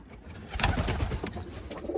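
Roller pigeons coo softly in a loft kit box, a few low, breathy coos rising and fading over a quiet room background.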